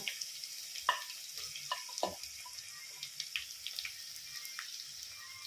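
Finely chopped onions with salt fry and sizzle steadily in a pan, a constant bright hiss broken by occasional clinks and scrapes of stirring, fairly quiet and without talk.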